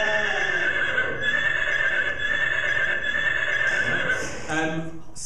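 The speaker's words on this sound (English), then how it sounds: "Trigger the horse. I've got a horse in there somewhere, yeah." A horse neigh sample triggered from a Skoog accessible music instrument, a whinnying call with bright tonal harmonics sustained over several seconds, ending in a few shorter snorting bursts near the end.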